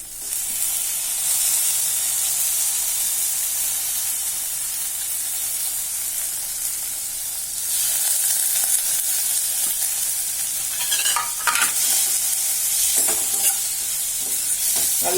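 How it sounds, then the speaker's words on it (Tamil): Tomatoes sauté in a pan with a steady, close frying sizzle and hiss throughout, broken late on by a few scraping stirs of a spoon against the pan. "நல்லா வதக்கிட்டு தக்காளி நல்லா வதங்கட்டும்."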